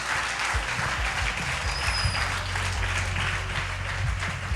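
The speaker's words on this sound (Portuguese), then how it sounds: "Você pode aplaudir o Senhor bem forte?" A church congregation applauds the Lord in a steady, full round of clapping, with a low murmur and rumble of the room underneath.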